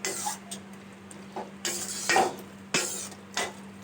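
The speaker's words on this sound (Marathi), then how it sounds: "मिक्स करून घ्यायचं" A spoon clinks and scrapes against a pan as peanut powder is stirred into a val bean curry, with several separate strokes close by over a low steady hum.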